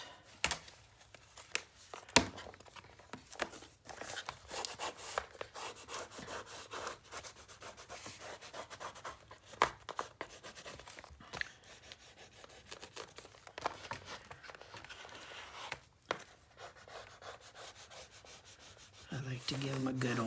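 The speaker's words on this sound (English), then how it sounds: "To give them a good old burnish." Taped paper gussets on a handmade mini album are burnished, producing a long run of quiet, close rubbing and scraping strokes with occasional sharper crinkles and taps.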